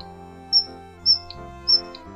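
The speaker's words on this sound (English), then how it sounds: "Q for quail." A quail calls in three short, high, sharp chirps spaced evenly apart, clear over a soft, sustained musical backing.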